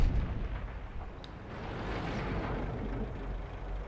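A heavy tank gun fires in World of Tanks: a deep boom at the start, then a long low rumbling roll that fades slowly, with no talking.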